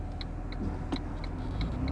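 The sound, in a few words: 1986 Pontiac Fiero GT engine running while driving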